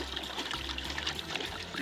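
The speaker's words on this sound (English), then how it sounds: "The next step is to put water to boil." Water poured into a cooking pot for boiling charro beans, a steady close trickling splash that runs continuously and moderately loud, with no talking over it.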